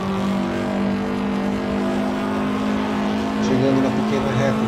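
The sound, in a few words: car driving through Café corner at Interlagos circuit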